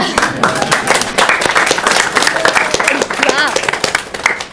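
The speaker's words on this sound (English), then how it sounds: "I'm going to clap" Clapping during a public school board meeting, a close, busy patter of hands running throughout under loud overlapping voices and chatter.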